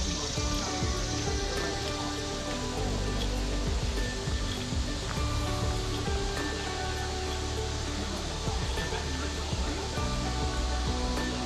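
Continuous rushing water, a steady broad roar of a waterfall heard from some distance at Old Stone Fort State Archaeological Area, Manchester, Tennessee, unchanging throughout.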